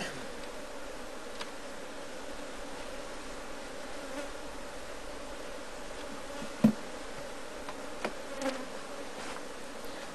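Bees buzz in a continuous, fairly quiet drone at a Kenya top bar hive in Nakuru, Kenya, with occasional faint taps and clicks of hive work and no talking.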